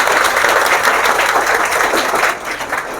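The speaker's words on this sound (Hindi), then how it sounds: "जयप्रकाश सर के लिए एकदम जोरदार तालियां बनती है" Loud, steady applause from a group of government school children, many hands clapping together in a dense wash that eases slightly near the end.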